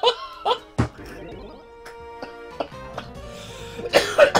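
Several harsh coughs burst out close by, separated by quiet stretches, with some throat clearing and faint thumps.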